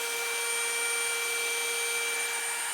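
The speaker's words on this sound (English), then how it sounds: "we're going to drill up through our bed with that 3/16 drill bit" A power drill fitted with a 3/16 bit bores up through a pickup truck bed while a gooseneck hitch goes in underneath, giving a steady, loud, continuous high whine with no talking.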